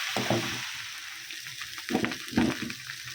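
Tomato dropped into a hot frying pan, giving a steady sizzle with a few louder spitting bursts as it is stirred, close and moderately quiet.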